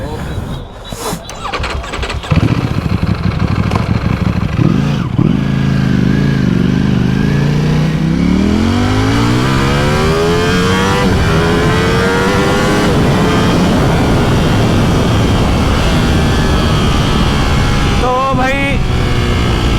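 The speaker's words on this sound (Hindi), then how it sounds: "बाइक वाइक भी भगा रहे हैं अपन" A Ducati Panigale V4 motorcycle engine starts and revs up, pitch rising and falling through repeated loud throttle surges, close by, continuing steadily to a final quick rev.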